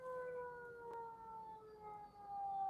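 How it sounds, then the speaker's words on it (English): An ambulance siren wails steadily at a distance, faint and sustained with a slowly falling pitch as it passes. "Damn ambulance coming through here."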